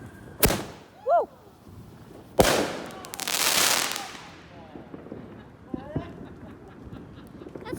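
Fireworks mortars crack loudly several times, one big burst followed by a long crackling, hissing spray, with whistles and smaller pops scattered around it, and excited voices shout between the blasts.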